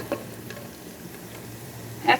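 Chili garlic noodles with sesame seeds stir-fried in a pan, a faint sizzle under soft scraping and stirring strokes, with a sharper clatter at the very end.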